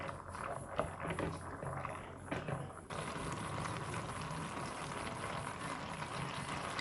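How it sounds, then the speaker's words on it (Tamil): A steady broadband rushing and bubbling from a pot of macaroni at a rolling boil, continuous and fairly close with no talking. "கரெக்டாக ஒரு 10 நிமிஷம் கொதிச்சு வெந்து வரட்டும்."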